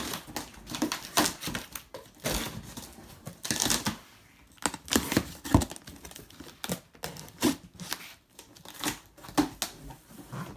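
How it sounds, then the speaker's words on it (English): A knife slicing through packing tape on a cardboard box for a car seat, heard as close, irregular bursts of scraping, crinkling and tearing with short pauses between strokes. "So I've got my knife for the tape."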